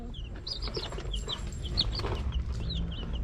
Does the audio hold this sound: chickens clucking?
yes